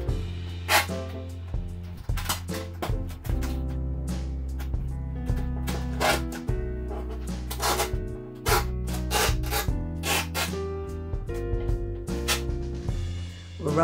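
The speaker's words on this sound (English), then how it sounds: "Rubbing this down to make sure it's sealed" Duct tape is rubbed down onto a waterproof art work-board, giving repeated close scraping and rubbing strokes in an uneven rhythm over a steady low hum.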